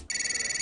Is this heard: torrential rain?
no